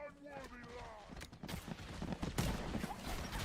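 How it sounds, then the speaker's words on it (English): Plasma grenade blasts in the looter-shooter Borderlands 4, a string of sharp bursts and crackling detonations over busy gunfire, with a loud burst near the midpoint and a swelling roar after, mixed with game music. "Oh, the plasma grenades, man."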